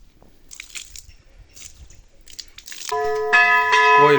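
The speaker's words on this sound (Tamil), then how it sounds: "கோயில் பூசைக்கான ஆயத்த மணி அடிக்குது" A temple bell at Kannagi Amman temple rings before puja, its bright sustained metallic tone starting loud and near after a few seconds of faint scuffling and clinking.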